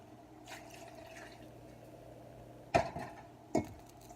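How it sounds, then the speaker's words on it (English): Water poured into dry maseca corn flour for tamale dough in a home kitchen, with two sharp splashy pours late on over a quiet background. "the first thing that we need to do is to add water to the maseca because it's completely dry"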